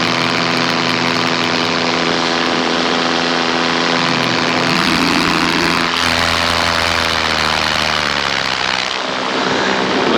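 A paramotor engine and propeller run in flight with a loud, sustained drone whose pitch rises and falls as the throttle shifts.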